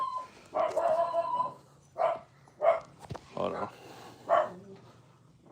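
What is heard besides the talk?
dogs barking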